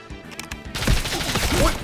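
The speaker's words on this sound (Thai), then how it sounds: "ยิงปืนเล่นทั้งแม็กเลย" Video game gunfire as a whole magazine is emptied: a quiet start breaks at under a second into a loud, dense burst of rapid shots that keeps going to the end, with a faint voice near the beginning.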